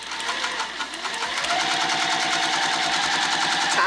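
A sewing machine stitching a vinyl bag, running continuously with a fast, even mechanical clatter of needle strokes. Steady and close, with no talk.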